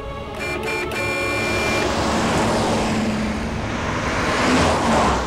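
A car speeds along a road in a dramatic film scene, its steady engine and tyre roar loud and close, swelling slightly toward the end with no voices.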